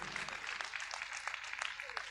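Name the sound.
audience applause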